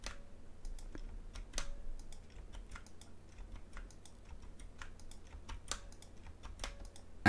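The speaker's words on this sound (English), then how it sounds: "then I'm going to hit Alt D on my keyboard" Keys clatter on a computer keyboard while working in Blender 2.8, a sparse, irregular run of light clicks and taps close to the microphone over a faint steady background hum.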